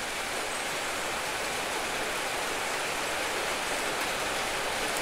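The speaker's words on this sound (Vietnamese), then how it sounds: "Trời mưa tôi nghe nó ồn quá." Rain falls outside a room during an online Photoshop lesson, a steady dense hiss with no pauses and no voices.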